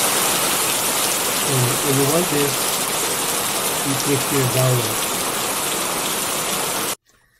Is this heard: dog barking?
no